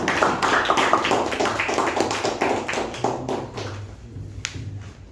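A small group applauds to welcome the president of a Toastmasters club meeting, a modest patter of claps that is fairly close, thins out and fades after about three seconds, with a few scattered final claps.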